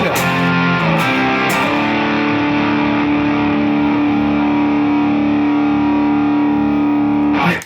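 Electric guitar through stacked digital and analog overdrive pedals plays a sustained, thick, distorted chord that rings out for several seconds, loud and saturated, with no voices.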